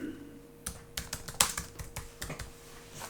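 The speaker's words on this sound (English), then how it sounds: "you can start typing in your keywords here" Soft keyboard typing, a handful of irregular key taps and clicks close up against a quiet room hum.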